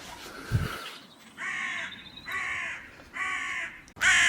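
A crow caws from a very tall, high tower at an old salt works, giving three drawn-out harsh calls evenly spaced, clear and fairly close, with a fourth starting at the end.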